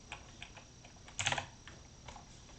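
Quick, light tapping on a computer keyboard, faint and close, with a scattered rhythm of keystrokes and a brief denser burst of clicks midway, with no voices.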